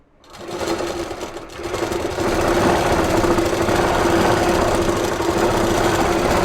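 An electric sewing machine stitches net kurti fabric, starting up and ramping into a loud, steady whirring run with a continuous mechanical buzz, close and alone.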